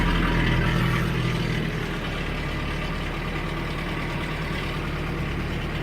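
A 1995 Nissan pickup engine idles steadily just after a cold start, with a loud, constant low rumble and a faint ticking chatter on top, likely from a timing chain on low oil, with no talk.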